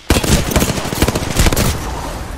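Rapid close gunfire in the battle-royale shooter Apex, a loud dense burst of shots that tails off toward the end with no talking over it.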